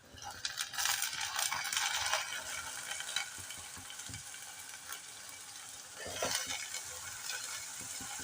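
Chopped spiny gourd (kantola) tipped into a pan of frying onions, giving a steady sizzle with clattering and stirring scrapes, a few sharper knocks of utensils on the pan.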